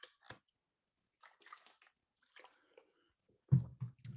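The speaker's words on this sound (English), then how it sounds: "take a sip of water." Water being sipped from a drink during a webinar, quiet scattered mouth and liquid sounds followed by a short louder slurp and swallow near the end, close to the microphone, with no talk.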